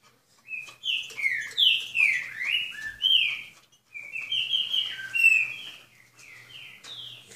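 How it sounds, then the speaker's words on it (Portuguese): Pair of trinca-ferro songbirds singing close by, bright whistled phrases in rapid alternating bursts with short pauses, clear against a quiet background. "Casal de Trinca."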